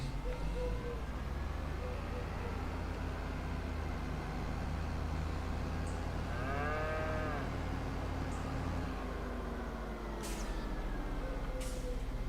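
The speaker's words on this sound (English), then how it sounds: "Loads of cows, all next to the building." Cattle mooing in the video game Farming Simulator 25, a herd gathered beside a farm building, with several drawn-out moos rising over a constant low engine drone and distant clanks.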